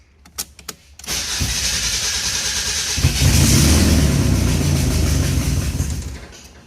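A Mazda Miata under revival, its clutch low on pressure, cranks over after a few sharp clicks, the starter whirring steadily and growing into a louder rough churn for several seconds before cutting off.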